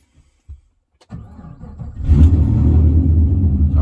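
A car fitted with the GPI Max Package hot-starts after a few faint clicks, its engine catching with a rumble and settling into a loud, steady idle.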